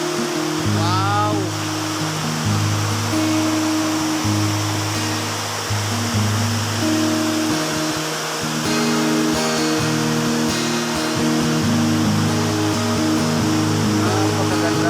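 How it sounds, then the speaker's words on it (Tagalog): River water pours and rushes at Wawa Dam in Montalban, Rizal, a steady loud broadband roar lasting throughout, with faint tonal music-like sounds layered underneath. "Ang gaganda tingnan yung daloy ng tubig"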